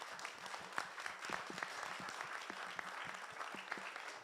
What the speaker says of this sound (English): And the executive producer of the film, a round of applause